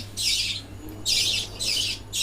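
A pet budgerigar squawks loudly four times in a row, harsh close calls with brief pauses between.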